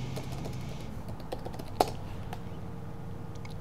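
Quiet, close keystrokes on a computer keyboard while a password is entered, a light irregular patter of taps with one sharper click partway through and no talk.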